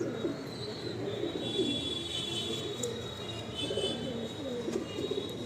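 Najra Kaldam breed pigeons coo steadily in a loft, soft repeated throaty calls close by, with faint chirps from other birds in the background.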